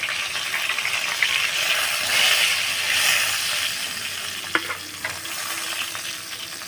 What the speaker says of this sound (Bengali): বড়াগুলি ভাজা হয়ে গেছে চামড়ি চুমড়ো পাতায় চিংড়ি মাছের বড়া